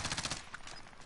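Gunfire in the video game Call of Duty: Warzone, a quick burst of sharp shots right at the start that fades into a short reverberant tail.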